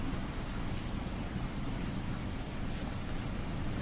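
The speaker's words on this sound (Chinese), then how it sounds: "下这么大的雨，回去也不太方便。" Heavy rain pours down steadily, a dense, even hiss of water on surfaces that stays constant and fairly loud with no pauses and no voices.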